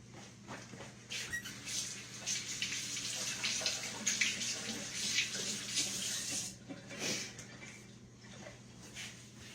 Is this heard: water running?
yes